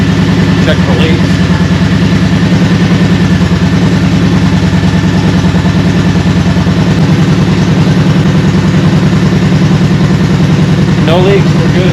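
A 2011 Kawasaki Vulcan Voyager VN1700 trike idles steadily as it warms up, a loud, even low rumble that runs unbroken throughout, with brief voices faintly over it.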